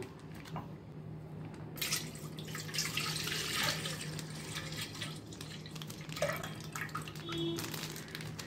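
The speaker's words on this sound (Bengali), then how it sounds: "সামান্য একটু জল দিয়ে দেবো।" Water runs from a tap into a cooking pot, a steady splashing pour that starts abruptly and continues at moderate volume with faint hum underneath.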